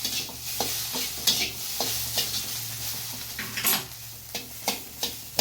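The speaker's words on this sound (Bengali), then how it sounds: "একটু পাতিয়ে পাতিয়ে এরকম করে ভেজে নিতে হবে আগে ডিমটা দিয়ে" Egg frying in a little oil in a pan for a teasel gourd dish, a soft steady sizzle broken by light scraping and stirring taps from a utensil, close and fairly quiet.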